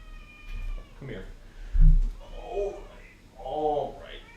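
A house cat meows several times nearby, drawn-out vocal calls spaced a second or so apart, with low rumbling background noise.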